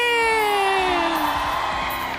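Beauty pageant crowd at the Miss Earth 2018 final cheering and whooping loudly, with a rising whoop and sustained roar of voices filling the hall.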